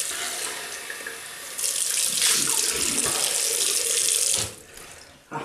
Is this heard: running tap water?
yes